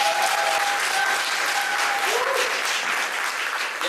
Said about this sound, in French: Une nouvelle espacienne qu'on peut applaudir aussi.